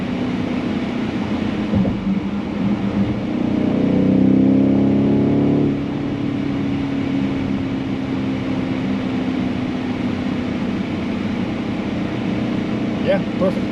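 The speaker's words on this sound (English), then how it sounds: "Just drop it a couple gears just to hear that engine." A 2023 BMW X5 M50i engine revs up loudly for a couple of seconds after a downshift, then drops back to a steady, lower in-cabin drone that continues to the end.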